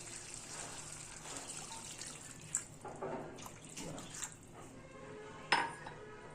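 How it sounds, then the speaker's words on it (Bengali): Water is poured into cooked masala for a jackfruit kofta curry, heard as quiet splashing and trickling mixed with a few metallic clinks of a pan and utensil. "এবার আমি এর মধ্যে জল দিয়ে দেবো।"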